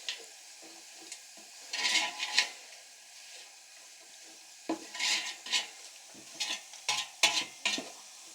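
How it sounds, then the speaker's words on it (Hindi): Onions frying in a pot as a spoon stirs them, heard as irregular bursts of scraping and clattering over a low, soft sizzle, close and fairly quiet with short gaps between strokes. "इसको हमने तकरीबन 10 सेकंड तक और हम यहाँ पे इसको फ्राई करेंगे"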